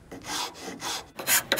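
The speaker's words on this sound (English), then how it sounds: "I'm starting off this work with a large coarse rasp here." A large coarse rasp scrapes across wood in several back-and-forth strokes, close and loud, with a short break before two quicker final passes.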